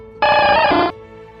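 A short synthetic electronic cry of Squirtle, the Pokémon turtle, a buzzy tone lasting under a second that drops in pitch partway through.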